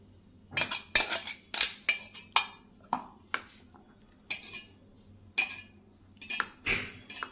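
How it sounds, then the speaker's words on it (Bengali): Mixer grinder jar being rinsed and handled in a kitchen sink, giving a series of sharp metallic clinks and clatters spaced irregularly, fairly close, with no talking. "এখন একটু যে মিক্সি বাটিটা ধুয়ে একটুখানি জল মিক্স করব।"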